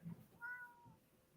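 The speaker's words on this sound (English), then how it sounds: "Is that David's cat" A house cat gives a single short, fairly faint meow in a quiet room, with a little background noise before it.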